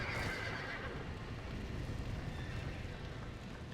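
Horses whinny and neigh in the Red Dead Redemption video game, with steady hoof clatter of galloping under a dense, loud game soundscape throughout.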